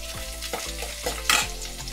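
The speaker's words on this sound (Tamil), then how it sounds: "வெங்காயம் கொஞ்சம் நல்லா வதங்கட்டும்." Medium onions and curry leaves fry in a pan for Chennai-style vada curry, with close, busy sizzling and several quick scraping stirs and a short bright crackle near the end.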